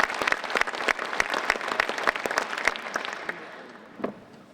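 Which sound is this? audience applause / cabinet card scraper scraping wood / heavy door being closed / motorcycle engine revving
audience applause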